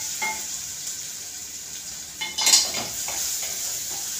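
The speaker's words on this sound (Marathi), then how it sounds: "तो आपल्याला तेलातच परतून घ्यायचा" A paste of ginger, garlic and chili with onions sautés in oil, giving a steady close sizzle with a brief burst of scraping as it is stirred midway.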